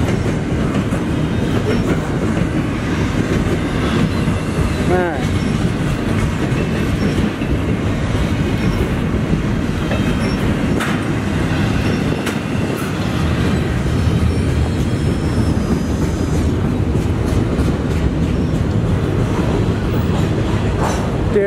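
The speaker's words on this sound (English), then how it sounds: "Just 2 minutes and 30 seconds of beautiful train footage." A train rolls steadily past near a tree house in Bellevue, Ohio, its rail cars clattering with a continuous rhythmic clickety-clack for the whole stretch, loud and close, with only a brief spoken remark.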